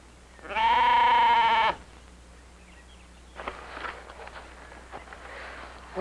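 A single sheep gives one loud, sustained bleat about a second long, close by, followed by faint rustling and light movement in a quiet outdoor setting on a farm.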